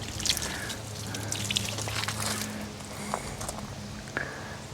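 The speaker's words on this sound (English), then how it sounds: "Dump some water on this." Water is poured over freshly quarter-sawn red oak boards at a Wood-Mizer LX25 sawmill, giving scattered dripping and splashing trickles with light knocks against a low steady hum.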